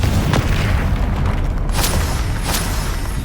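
A Confringo fire spell explodes in the Hogwarts Legacy video game, with deep booming blasts and bursts over a dense, loud rumbling battle backdrop.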